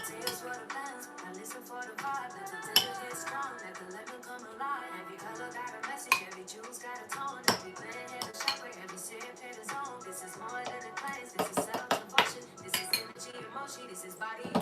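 Sauce ingredients stirred in a bowl, a spoon clinking and scraping steadily against the sides in quick, uneven strokes, close and fairly loud with sharper knocks now and then.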